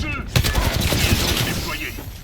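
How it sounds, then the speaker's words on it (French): Rapid bursts of automatic gunfire crackle through a battle royale match, dense and close with sharp repeated shots over a steady background din. "on me tire dessus"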